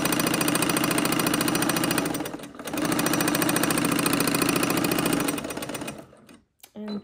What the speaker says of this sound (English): And now let's take it to the sewing machine. So here I'm just using a regular straight stitch.